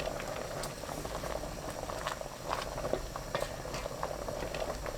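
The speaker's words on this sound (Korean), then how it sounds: "저어가면서 끓여주세요. 팥죽이 끓기 시작하면 그때부터 3분 더 끓입니다." Red bean porridge with chestnuts bubbling on high heat in a pot, a steady dense blubbing and popping of thick simmering liquid, close and continuous with no voices.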